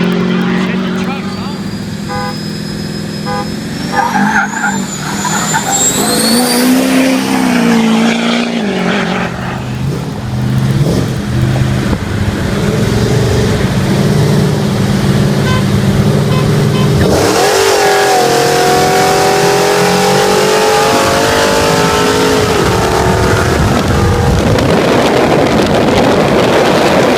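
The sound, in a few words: twin-turbo truck and supercharged GTO racing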